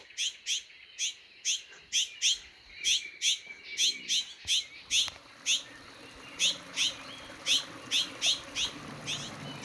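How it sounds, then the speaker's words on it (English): A wild bird in an early-morning New Mexico forest repeats a sharp, high chirp about every half second, a steady series of bright, close calls over faint background rustle. "Wonder what kind of bird that is."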